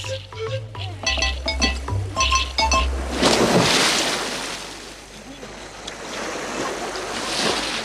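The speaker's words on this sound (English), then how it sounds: "Splashing the water calls him in to play." Water splashes and surges in a wash of surf-like noise as someone splashes to call a dugong, with wind rumble and a few metallic clinks early on.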